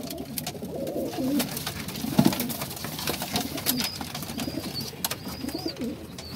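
Pigeons coo softly and repeatedly, low throaty calls overlapping nearby, with faint rustling and distant chirps in the background.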